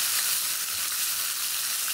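Sliced onion, salted, sautéing in a pan for a dry bell pepper (shimla mirch) dish, giving a steady, even hiss of frying, close but soft, no one talking.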